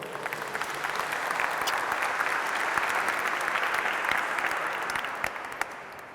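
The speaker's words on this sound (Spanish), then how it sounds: "¿Vas a darle un aplauso a la palabra de Dios, por favor?" An audience applauds a Bible reading during a Catholic consecration preparation lesson: dense, continuous clapping that stays steady for several seconds before easing slightly at the end.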